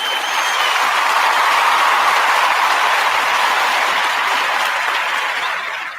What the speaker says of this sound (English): Once again, I'm giving you another clap and kudos.